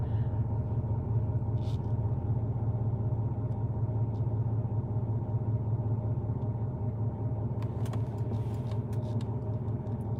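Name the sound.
rough-running fixer-upper car engine needing a fuel pump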